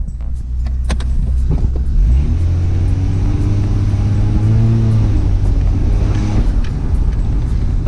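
A long-unused Toyota Mk3 Supra barn find is driven, its engine a loud, close, steady rumble that climbs in pitch as it accelerates, then settles back to a droning, even idle-like hum.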